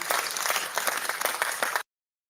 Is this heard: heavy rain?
no